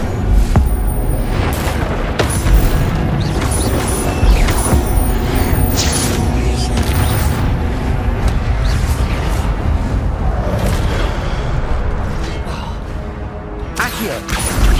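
Dense crackling blasts and booming spell impacts from fire magic cast repeatedly in the game Hogwarts Legacy, a loud continuous rumble of effects with sharp transients throughout.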